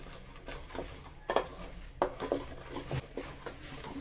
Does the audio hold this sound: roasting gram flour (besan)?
yes